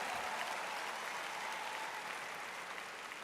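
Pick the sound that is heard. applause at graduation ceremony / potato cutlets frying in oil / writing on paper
applause at graduation ceremony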